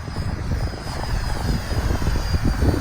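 A Freewing F9F Panther RC jet's 64mm electric ducted fan on 4S power whines steadily overhead, a continuous high-pitched engine tone over a rumbling, wind-buffeted roar.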